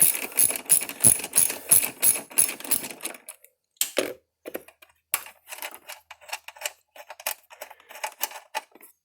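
A ratchet wrench loosens a 10 mm bolt on a 2002 Dodge Neon during an intake install, giving rapid, close clicking pawl bursts, then sparser clicks and light metallic handling.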